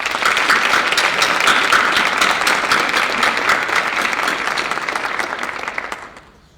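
At a Film Arts class of 2020 graduation ceremony, an audience gives National Certificate graduates sustained, even applause that fades out near the end.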